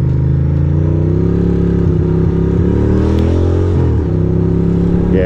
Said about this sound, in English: my bike is running all rough.